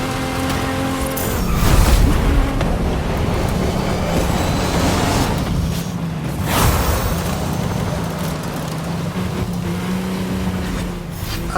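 A Hoonigan Focus RS-RX rally car roars through a racing video game, its engine swelling in two loud surges as it passes and then holding a steady high drone.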